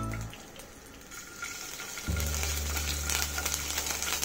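Grated ginger hits hot ghee already holding cumin in a kadhai, and a sudden crackling sizzle with a low rumble bursts up midway and keeps going, close and clear.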